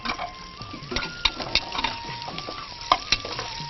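Onions fry in a pan in a village kitchen, with a low sizzle under repeated sharp scrapes and taps of the stirring utensil and a faint steady tone in the background.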